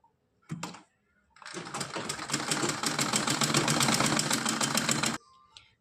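An electric sewing machine stitching fabric for a small Kanha ji dress, a short burst, a pause, then a steady rapid mechanical chatter for about four seconds before stopping abruptly; close and loud with no speech.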